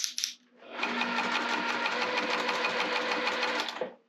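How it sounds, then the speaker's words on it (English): A sewing machine runs steadily stitching fabric around the edge of a boombox basket, a fast even whir with rhythmic needle clatter, close and loud, starting after a brief pause and stopping abruptly near the end. "Let's take it to the machine and sew all the way around."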